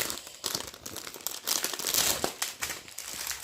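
A plastic packet holding round black, white and orange diamond painting drills is torn open by hand, giving close, loud bursts of crinkling and crackling plastic with no talking.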